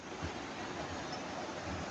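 A natural river at Bao-Bao Falls in Lianga, Surigao, rushes steadily below, a broad continuous wash of flowing water with no pauses and no voices.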